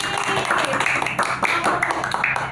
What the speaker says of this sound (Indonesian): Tepuk tangan buat Mas Alvin